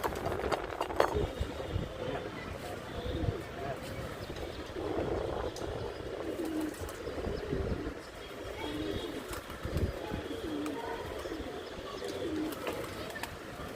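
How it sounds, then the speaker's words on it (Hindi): Pigeons coo softly near scattered grain bait outdoors, low murmuring calls repeating over a steady background with occasional light clinks and rustles. "तो गाइस एक बार जो है कबूतर आके खाने लग गया था"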